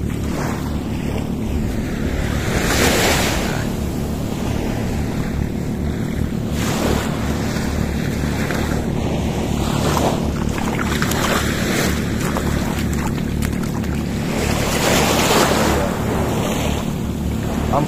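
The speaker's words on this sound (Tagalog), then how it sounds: "Medyo malakas ang alon ngayon, ah." Strong ocean waves rolling in at a beach in Ilocos Norte, a steady loud roar of surf with repeated swelling surges, heavily buffeted by wind noise on the microphone.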